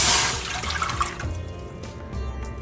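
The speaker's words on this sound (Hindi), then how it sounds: "4 कप पानी मैं ऐड कर रही हूँ" Four cups of water pour into a cooking pot for boiling bottle gourd peels, starting with a loud splashing gush that settles into a softer, steady trickle, with no talking.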